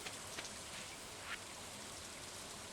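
Steady rain falls in Stardew Valley as a soft, even hiss, with a few faint droplet ticks scattered through the continuous patter.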